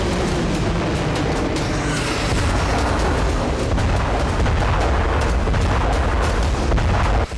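Indian hypersonic missile test launch: a loud, continuous roaring rush of rocket exhaust with crackling bursts, sustained at steady high level throughout with no voices.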